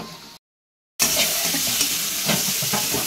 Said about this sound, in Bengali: আমি এখন দিলাম হচ্ছে বিনস ভাজা